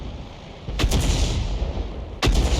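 Two heavy gunshots in a World of Tanks-style video game, each a loud booming crack followed by rumbling noise, spaced about a second and a half apart.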